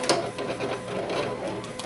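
A Silhouette Cameo vinyl cutting machine with a razor knife runs steadily, making a continuous mechanical whirring and scraping hum with faint rhythmic clicks, close by and without talk.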